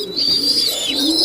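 An ornamental pigeon coos close by, a soft, continuous throaty call held steadily over a brief moment with a faint higher chirping tone above it.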